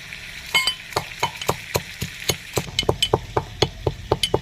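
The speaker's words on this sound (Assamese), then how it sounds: "এতিয়া ইয়াতে মই জলকীয়াখিনি খুন্দি ল'ম।" Chillies pounded in a mortar and pestle, a steady series of sharp, close thuds about three per second, growing quicker and denser toward the end.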